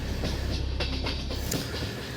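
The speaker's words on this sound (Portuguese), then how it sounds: "o som de trem, o ar no meu rosto" A passenger train in India, heard from inside a carriage, makes a loud steady rumble with rhythmic clicking of the wheels over the rail joints.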